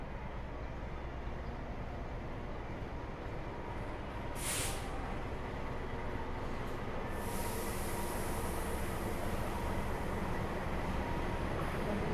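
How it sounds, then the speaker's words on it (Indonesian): The Malabar passenger train from Bandung bound for Malang rolls into a station with a steady broad rumble and wheel noise, accompanied by brief high hissing bursts like air brakes. "Yang baru saja masuk itu adalah kereta api Malabar dari Bandung tujuan Malang ya, teman-teman."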